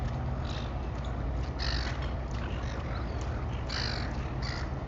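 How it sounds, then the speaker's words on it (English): Seagull squawks and caws ring out repeatedly over a steady background rumble aboard the Disney Wonder cruise ship in Sydney Harbour, several birds calling in short bursts, moderately close. "Now I'm going to go through a few seagulls here"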